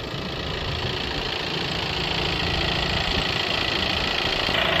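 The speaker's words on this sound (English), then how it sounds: "Okay, engine's now running." A VW Touran 2.0 TDI diesel engine idles steadily throughout, a close, continuous low rumble with a faint knocking texture and a slight rise in level toward the end.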